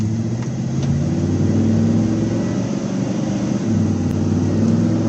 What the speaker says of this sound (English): Yeah, it's got some kind of aftermarket exhaust on it. I ain't sure what it is, but she's got a little old purr to her.